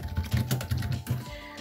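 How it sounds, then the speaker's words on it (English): Bursts of typing on a computer keyboard while entering a chat message, several quick clustered key clicks in short runs, close and moderately loud, no talking. "when we type something in the chat"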